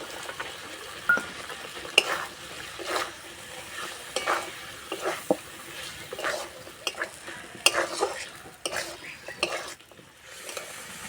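Fried potatoes and peas stirred in a sizzling pan with sugar, a metal spoon scraping and clinking against the pan in irregular strokes over a steady frying hiss, close and fairly loud, no voices.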